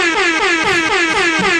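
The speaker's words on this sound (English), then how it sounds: "That's a low air horn." A low air horn sound effect blares loud and close in a rapid run of repeated downward-sliding blasts, about six in under two seconds, with no voices over it.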